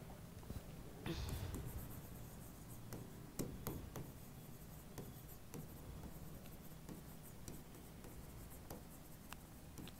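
Chalk or marker writing on a board in a biology lesson, quick scratchy strokes and taps repeating steadily over a low room hum, fairly close, with no speech.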